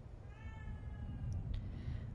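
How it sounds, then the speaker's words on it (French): A house cat lets out a single faint meow early on, heard indoors over a low rumbling background from a horror video game, followed by a couple of brief soft clicks. "bon là j'ai le chat qui miaule"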